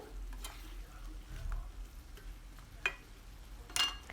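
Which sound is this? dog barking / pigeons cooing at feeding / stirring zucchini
stirring zucchini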